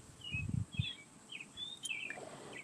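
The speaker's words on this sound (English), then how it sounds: "Can you hear the birds?" Several short high chirps from birds outdoors, faint and somewhat distant, scattered across a few seconds over low rumbling background noise.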